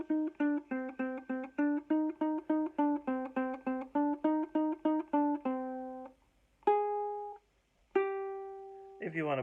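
A ukulele picks a harmony line on the extension part of a Beethoven tune: a quick run of about twenty clean, close plucked notes, followed by a few slower single notes that ring out and fade.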